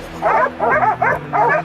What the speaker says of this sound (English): the barking signal told me the target was near.